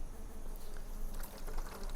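Wasps buzzing around water as they collect mud for nest building, a steady, close insect drone over rustling background noise, with no speech.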